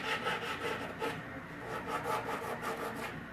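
A hand file or rasp strokes back and forth over the seams of a whitetail deer head form, making a steady, close scraping rasp in repeated strokes with no talk.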